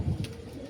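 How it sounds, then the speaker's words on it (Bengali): Mirabbala pigeon cooing: a short, soft, low coo close by, faint and alone with no talk. "কোয়ালিটি দেখো, টপ কোয়ালিটির পায়রা আছে"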